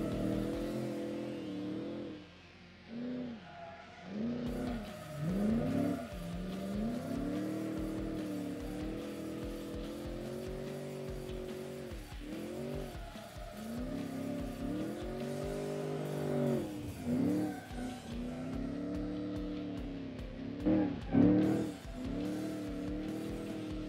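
Engine of a 2005 Ford Mustang GT replica built in Automation, driven in BeamNG.Drive, revving up and down continuously with repeated acceleration surges and gear changes, loud and close throughout with no talking.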